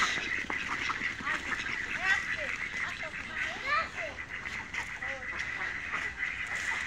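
A group of ducks quacks outdoors in short scattered bursts over a steady wash of background noise, with distinct calls coming and going from moderate distance.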